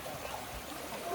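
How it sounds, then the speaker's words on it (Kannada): Flowing stream water in Banff, Canada, a steady, even wash of running water, fairly quiet and continuous with no talk over it. "ನೀರಿನ ಶಬ್ದ ನೋಡಿ ಹೆಂಗಿದೆ."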